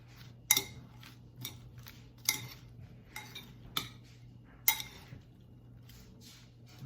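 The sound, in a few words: stirring vinaigrette into cut endive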